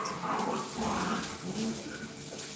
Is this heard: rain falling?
no